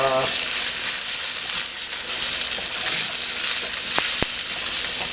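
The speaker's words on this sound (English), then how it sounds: "I get the sizzle that I'm getting now" Oil sizzles hard in a pre-seasoned Yosukata carbon steel wok, a loud continuous hiss and crackle that holds for the whole stretch, with a few sharp pops and clinks near the end.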